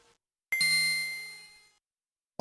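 Game Boy Advance startup chime: a single bright electronic ding with a sustained ringing tone that decays over about a second, alone, followed by a brief burst of other sound at the end.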